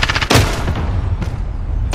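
Shotgun blasts in Call of Duty: Modern Warfare, three loud booming shots spaced about a second apart over steady game noise.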